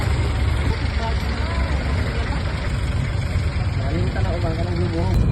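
A jeep engine idling in Zambales, a dense steady low rumble that holds loud and constant throughout while people talk over it.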